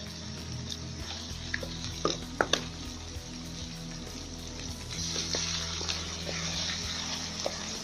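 Chicken with tomatoes frying in a pan, a steady close sizzle with scraping stir strokes and a few sharp clinks of the spoon on the pan.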